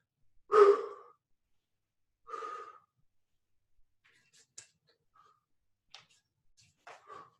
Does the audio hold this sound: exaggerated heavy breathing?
yes